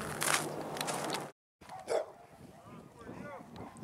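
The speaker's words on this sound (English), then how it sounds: "Here's that clip of the dog" Pit bull barking and yipping outdoors near a neighbor, short vocal bursts mixed with people talking nearby, broken by a brief cut to silence.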